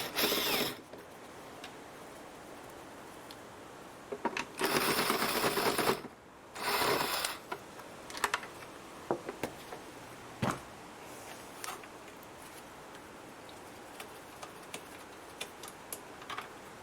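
A T25 Torx screwdriver backs screws out of a VW Touran rear light cluster, giving brief bursts of ratcheting and scraping followed by a scatter of small ticks and clicks, close and with no talking.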